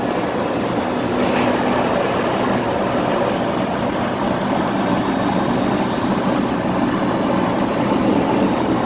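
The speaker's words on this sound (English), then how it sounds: "As you can see, I'm on the train today." Interior of a Belgian IC intercity train in motion, a steady broadband rumble and rattle of wheels and carriage that holds even and loud throughout, with no voices.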